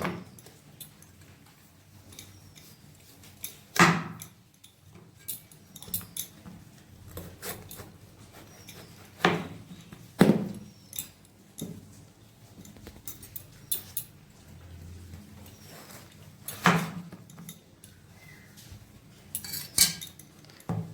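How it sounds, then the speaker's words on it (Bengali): Kitchen knife chopping a bottle gourd (lau) on a board, sharp isolated thuds and clacks spaced a few seconds apart with quiet pauses between, close by. "তো প্রথমে আমি লাউটা কেটে নেব।"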